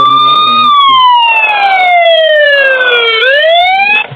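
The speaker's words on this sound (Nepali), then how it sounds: "यो साइरन" A loud, close emergency siren wails in a stunt bike video game, its tone sliding slowly downward then sweeping back up, heard alone with no talk.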